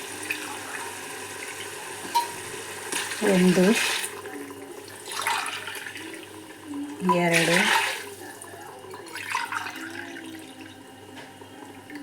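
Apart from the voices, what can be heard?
water poured into rice for egg biryani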